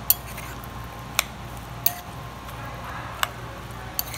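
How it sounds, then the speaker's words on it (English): Grilled mango salsa is stirred in a bowl: a handful of bright, separate clinks of a utensil against the dish, spaced irregularly over quiet room tone. "We're gonna mix all this together."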